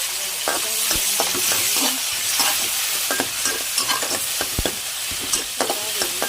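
White tofu fries toward crispness in hot oil, giving a loud, continuous sizzle with frequent crackling pops and stirring clatter.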